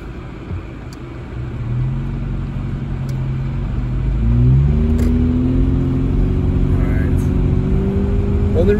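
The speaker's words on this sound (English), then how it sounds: "The only reason I like to speed up a little bit on this road" A car speeding up on a snowy mountain road in Upper Moonridge, its engine rumbling and rising in pitch from the cabin, steady and close.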